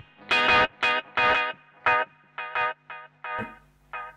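Guitar notes played through a TC Electronic Plethora X3 delay set to more feedback ring out in a string of short, distinct bursts, each one followed by quieter repeats that trail away.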